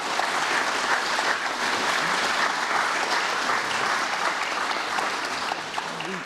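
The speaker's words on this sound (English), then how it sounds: "could we thank them with a round of applause, please?" Sustained audience applause thanks a panel at a built-environment competence conference, dense and steady throughout with no clear speech over it.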